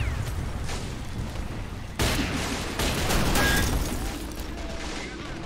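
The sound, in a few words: gunfire at a tank in a video game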